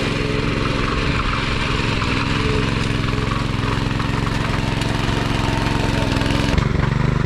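A tractor engine runs at a farm in Naringre, Devgad, in the Konkan, during sowing season, a loud steady close rumble with a continuous chugging drone that barely changes throughout.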